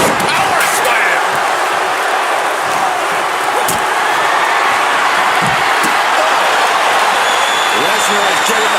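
A dense, steady roar from an arena crowd cheering during a WWE 2K25 wrestling match, loud and continuous, with a few sharp thuds and slams cutting through.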